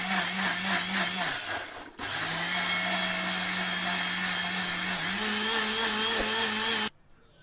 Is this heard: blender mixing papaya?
yes